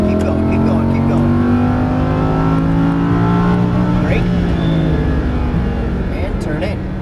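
A Lamborghini Huracan LP610-4 on a racing circuit, its engine pulling hard under throttle with a loud, rising and falling roar across shifts, while an instructor talks over it.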